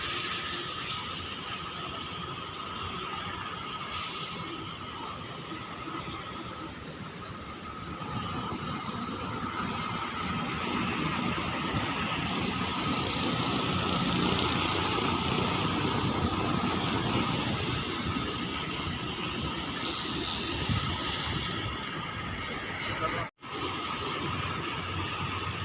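A Makmur bus engine runs steadily on the Medan–Pekanbaru eastern Sumatra route, a loud, continuous rumble with a broad mechanical roar that holds nearly constant before a brief dropout near the end.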